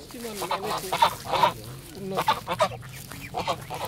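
Geese honk several times nearby in loud, nasal, uneven calls, with other bird sounds and a voice mixed in.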